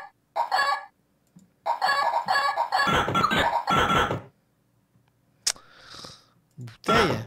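Cartoonish chicken clucks and crowing from the video game Gobliins 2 ring out in loud, rapid bursts, broken by brief pauses and followed by a few squeaky, higher calls near the end.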